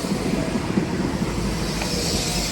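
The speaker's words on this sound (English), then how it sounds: "Here comes the 1150 West Midlands Railway service to Kidderminster from Stratford upon Avon" A West Midlands Railway Class 172 diesel unit arrives at Birmingham Moor Street station on the Stratford-upon-Avon to Kidderminster service, giving a steady, fairly close rumble and hiss of wheels and engine with no voices.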